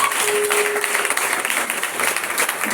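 A church congregation applauds for Jesus, with dense, steady clapping that fills the room and faint voices mixed in.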